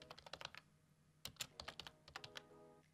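Typing on a computer keyboard close by, two quick clusters of light clicking keystrokes separated by a short pause, quiet and without talk.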